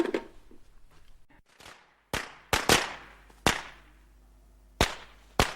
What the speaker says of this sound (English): Joseph Mary, please stop it with those firecrackers